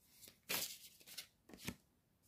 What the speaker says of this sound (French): Je vais juste mettre une carte de plus avant de vous en parler.